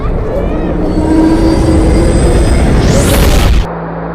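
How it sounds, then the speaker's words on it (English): Apollo 11 rocket engines roaring at liftoff, a loud continuous broadband rumble that holds steady for several seconds, with a rising tone near the end, then cuts off abruptly. "all engine running. Liftoff. We have a liftoff."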